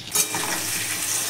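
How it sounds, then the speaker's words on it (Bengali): Potatoes fry in a pan with a steady, close sizzle and bright crackle, a brief louder burst at the start settling into an even hiss. "চিকেনের জন্য আলুটাকে ভাজা করে নেবো"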